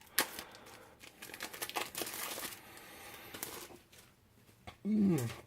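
Plastic wrapping crinkles and crackles in irregular bursts while a board game is unboxed, with a brief voice near the end.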